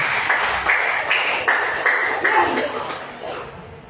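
Audience clapping during a sermon at an outdoor healing gathering in Purok 7, bursts of applause rising and fading over a few seconds, with a man preaching over it.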